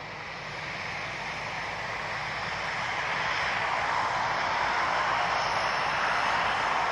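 A KLM airliner passes at Glasgow Airport, its jet roar steady and broadband, swelling gradually louder as it nears and holding strong to the end, with no voices over it.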